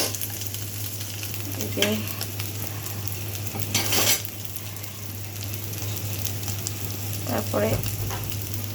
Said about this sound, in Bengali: তারপরে যে মাছগুলো, দুটো মাছের টুকরা ভাজবো।